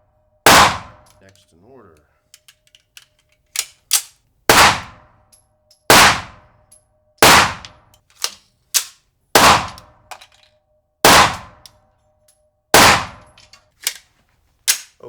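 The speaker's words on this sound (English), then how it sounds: "So 3 shots with my sights aligned right on that line." A VP9 pistol fires about nine sharp, loud shots at a target, spaced roughly a second or more apart, each with a ringing tail, and a few brief words are spoken between shots.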